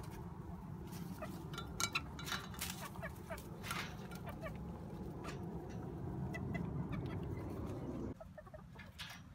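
Several chickens cluck and squawk excitedly close by while being fed slugs in a garden, with busy overlapping calls and rustling throughout.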